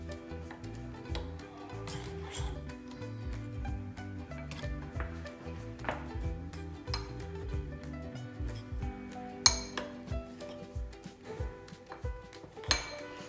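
Ingredients for choux pastry being stirred in a bowl, with a steady run of light clinks and taps from a utensil against the bowl over a low musical background.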